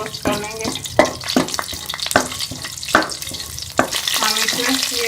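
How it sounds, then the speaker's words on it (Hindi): Whole garam masala roasting in ghee in a karahi, a close, continuous sizzle broken by regular scraping and knocking strokes of a spoon against the pan. "कढ़ाई के अंदर मैंने घी को डाल दिया। इसके अंदर ये हम साबुत गरम मसाला डाल देंगे और इसको हल्का रोस्ट कर लेंगे।"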